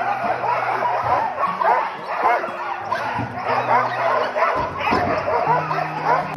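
A pack of sled dogs barking, yipping and whining excitedly before a mushing run, a loud continuous chorus of many dogs close by, with some human voices mixed in.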